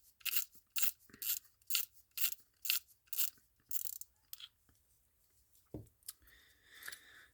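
The drag wheel on a Shimano Catana 4000HG ball-bearing spinning reel is backed off during service, giving about a dozen crisp ratcheting clicks in a steady rhythm, close and clear, then a few softer mechanical rattles.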